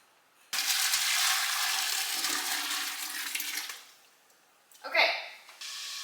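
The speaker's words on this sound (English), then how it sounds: "Now I'm going to carefully pour this back into my pot." Hot sorghum juice pours from a container back into a pot in a steady rushing stream lasting a few seconds, then tapers off, followed by a short splashy surge and a softer trickle, close and with no talk.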